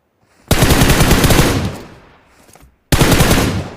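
Loud automatic gunfire from the BGMI battle royale game: a long sustained burst that tapers off, a short gap, then a second rapid burst, up close and dominating, with no talk.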